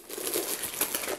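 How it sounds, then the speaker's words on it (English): Crinkling of craft-supply packaging while trim is unwrapped from a destash box, soft irregular rustles and crackles close by and fairly quiet, with no talking. "there's going to be a lot of crinkling"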